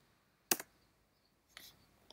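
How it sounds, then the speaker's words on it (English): Two quiet clicks of keys on a computer keyboard while typing a command in a terminal, a sharp tap followed a second later by a softer cluster of clicks, in a quiet room. "And then you have to type dot app."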